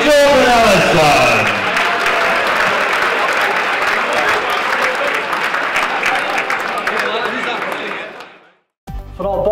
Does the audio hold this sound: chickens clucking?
no